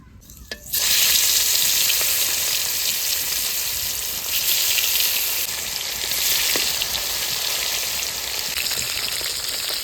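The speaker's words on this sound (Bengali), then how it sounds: "সর্ষের তেল মাছে তো নুন মাখিয়ে নিয়েছি আর তেলও গরম হয়ে গেছে এবার মাছটা ভেজে নিই" Katla fish fillets, salted, sizzle in hot mustard oil with a steady, loud, close frying hiss that starts abruptly and holds throughout, with faint crackles.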